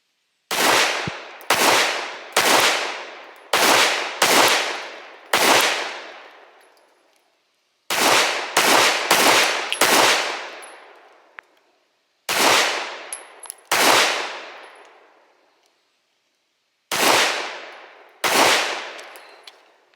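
Hellcat Pro pistol fitted with a Strike Industries compensator and a DPM recoil-reduction spring, fired in loud sharp reports: quick strings of two to five shots separated by pauses, each with a ringing decay.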